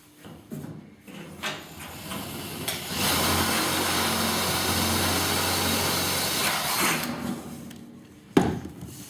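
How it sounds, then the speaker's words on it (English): A power drill whirs steadily for several seconds, drilling a screw hole while assembling an 8-foot round building, bracketed by brief knocks and handling clatter before and after. "Make sure everything is where it's supposed to be and drill your top hole."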